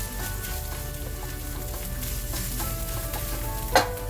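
Paste fries with browned onions in a hot pan, a steady close sizzle with soft scraping from the stirring spoon and one brief louder scrape near the end.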